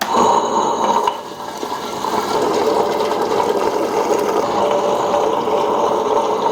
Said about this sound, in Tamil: இதில் போட்டுட்டு இதை அரைச்சிட்டு கீழே கொட்டிடணும்